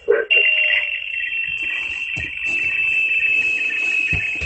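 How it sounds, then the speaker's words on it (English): A shortwave radio receiver gives off a steady high-pitched interference whine with crackling bursts and static, loud and continuous, while someone talks nearby. "Well, we got a little interference today,"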